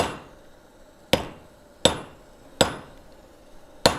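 A hand hammer strikes a large piece of hot metal on an anvil during forging, four loud, ringing blows spaced about a second apart with a quiet pause before the first.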